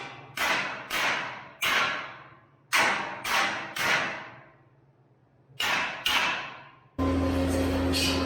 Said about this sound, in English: Sometimes it just takes a little tap from the hammer.